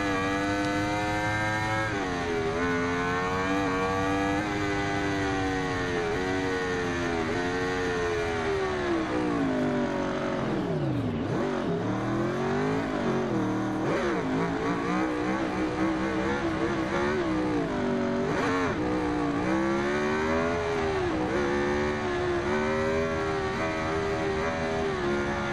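A 2015 Aprilia Tuono V4 1100 Factory roadster motorcycle in the racing game Ride 2 roars continuously, its V4 engine climbing through revs, dropping sharply on a downshift, then rising and falling again through gear changes.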